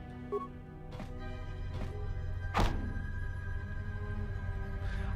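A stuck door is kicked in Star Wars: Knights of the Old Republic 2. The single heavy thud lands partway through over a steady game ambience, and a few softer knocks come before it.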